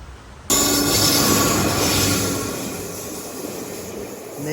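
Chennai Egmore–Kollam express train passing close by, a sudden loud roar of rolling wagons and wheels that stays steady and slowly eases, with no talk.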